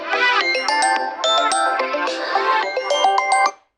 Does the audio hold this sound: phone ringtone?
yes